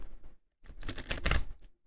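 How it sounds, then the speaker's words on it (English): Playing cards shuffled in a video game, heard as two short bursts of crisp riffling clatter, the second longer and louder, separated by a brief pause. "Alright, let's shuffle this shit."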